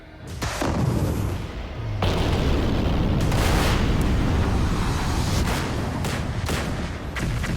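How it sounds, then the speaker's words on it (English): A heavy explosion booms close, followed by a long roaring rumble and crackling debris that keeps going for several seconds. "we've also included plenty of explosions."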